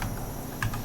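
Keystrokes on a computer keyboard, typed while setting up a FivePD game server: a short run of soft clicks with one sharper tap near the end, close and quiet, no voices.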